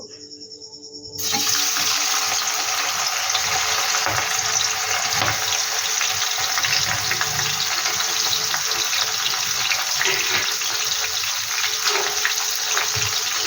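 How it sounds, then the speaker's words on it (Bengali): Prawns frying in oil left over from frying onions, a loud, steady sizzle that starts abruptly after a second of quiet and continues unbroken throughout, with no talking. "বন্ধুরা দেখো এই বেরেস্তার তেলে কিন্তু আমি চিংড়ি মাছটা ভেজে নেব।"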